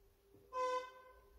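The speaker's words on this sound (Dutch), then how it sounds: "En de auto's buiten hoort toeteren." A single short car horn toot from a street outside, distant and muffled, lasting about a quarter second.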